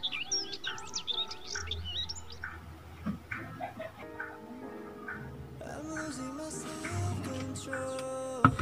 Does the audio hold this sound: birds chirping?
yes